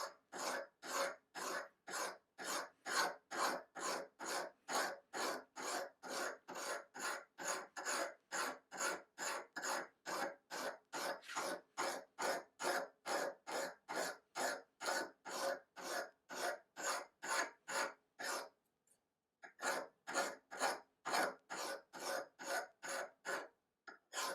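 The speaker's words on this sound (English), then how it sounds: "when you start filing, you can see exactly where you're filing here" Metal hand file from a Preciva 16-piece set filing an edge, giving a close, steady run of rasping strokes at a regular rhythm, with one brief pause before the strokes resume.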